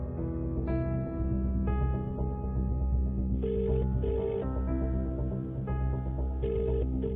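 Phone ringing over speakerphone after a number is dialed, a steady electronic ring tone with sustained tonal pulses repeating at a regular pace, fairly close and with no talk over it.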